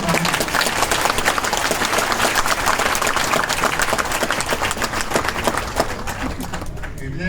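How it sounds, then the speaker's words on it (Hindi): Applause from an audience at the inauguration of Vyas Medicity hospital at Vyas Campus, Kuri, a dense, steady wash of many hands clapping, loud and continuous, fading slightly at the end. "जोरदार ताली बजा के इसको।"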